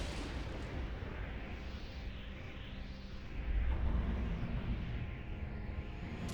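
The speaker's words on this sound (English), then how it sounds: "Yay, massive cannon turret." A massive cannon turret in Anarchy Online fires as a distant, faint rumbling barrage. A heavier boom swells midway through a continuous low roar.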